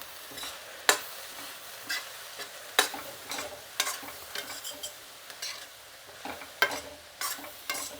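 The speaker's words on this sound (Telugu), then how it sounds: "టెంకాయ ఇందులో వేసేద్దాము. కలుపుకొని చూసుకొని వేసుకుందాం." Grated coconut mixed into a pan, with spaced spoon scrapes and clinks repeating over a quiet sizzle, close and fairly soft with no voices.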